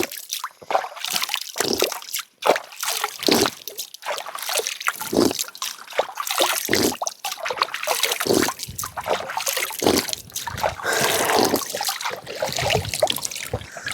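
Water of the Pandav river flowing and trickling in a wild forest setting, a steady close babbling with small splashes and sloshes throughout, with a voice briefly heard.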